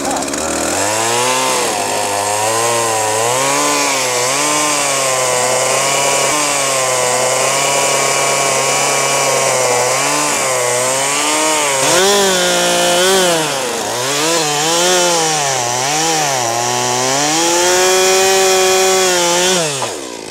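A chainsaw cuts slabs off the outside edges of a log to make bowl blanks, running loud and steady at close range, its pitch sagging and rising as the bar bites into the wood.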